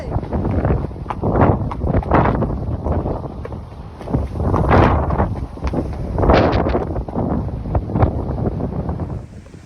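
Strong gusty wind buffets the microphone in a riding arena, a loud continuous roar that surges and eases in waves throughout, with no one speaking.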